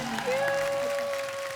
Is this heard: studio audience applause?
yes